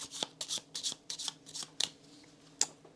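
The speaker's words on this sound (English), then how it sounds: "So shuffled." Playing cards for the Hadrian's Wall board game are shuffled close by, a run of quick riffling flutters with a few sharp snaps, bright and dry.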